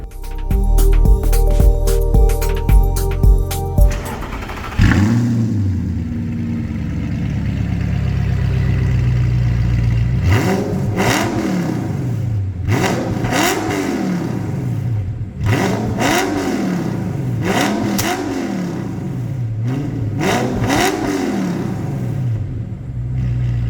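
An Audi R8 sports car engine with stage 2 software and a loud full custom exhaust starts with a whir, settles into a rumbling idle, then revs hard in five or six sharp, repeated blips up close.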